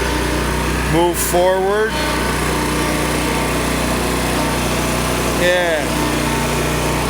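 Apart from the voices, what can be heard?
lawn mower engine running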